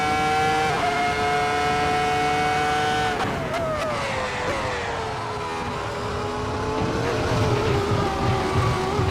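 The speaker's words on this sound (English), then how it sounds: "since it's an F1 car that isn't modern, I take it too wide" An older, non-modern Formula 1 car runs wide through a corner, its loud, high engine note holding steady, dipping as it scrubs through the turn, then climbing again, with faint tire squeal.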